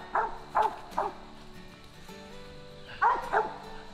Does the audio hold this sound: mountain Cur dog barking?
yes